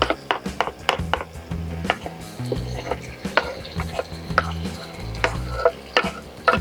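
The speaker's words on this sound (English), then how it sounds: "So now I'm gonna add the vegetables that we already chopped." Chopped vegetables are stirred into a pan of well-done beef liver, with a steady sizzle under sharp clattering scrapes and knocks of a utensil against the pan.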